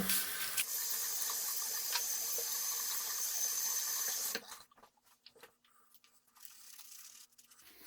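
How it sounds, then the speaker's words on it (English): A tap runs steadily for a cold rinse while shaving with Proraso, a close broadband hiss for about four seconds before it is shut off, leaving only faint handling sounds and drips. "Cold rinse and back with a second lather."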